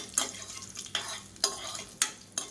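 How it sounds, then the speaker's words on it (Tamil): Whole spices and curry leaves fry in hot oil for a pattani potato kulambu. A steady sizzle runs throughout, with four or five sharp stirring scrapes close by at a regular pace. "எல்லாமே நல்லா பொரிய ஆரம்பிக்குது."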